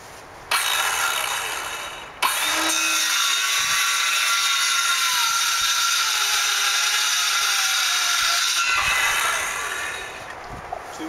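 A power saw cuts through clamped wood for a backyard observatory build, starting up with a whine, then running loud and steady for about six seconds before winding down, with no voices.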